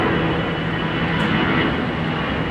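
A steady, loud roar from an aircraft at Minneapolis–St. Paul Airport, continuous broadband engine noise without breaks or voices.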